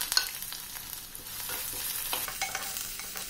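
Finely chopped onion hits hot oil with ginger in a pan for an okra curry, giving a steady crackling sizzle with scraping stirs throughout. No one speaks.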